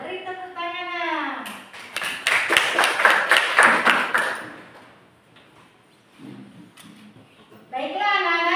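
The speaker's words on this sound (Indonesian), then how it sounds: "Beri tepuk tangan." A short burst of children clapping in a seventh-grade maths class, a few seconds of quick, bright claps between a woman teacher's voice before and after.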